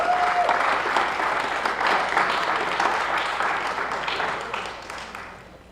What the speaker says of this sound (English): can we get a round of applause for all of our senators?